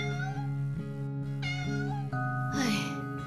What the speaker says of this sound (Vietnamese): Một con mèo hoang. Mày đang bị thương à?